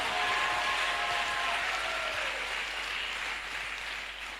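A church congregation applauds and cheers in acclaim of the Lord, a dense, steady wash of clapping filling the room and slowly tapering, with a few sustained voices ringing faintly above it.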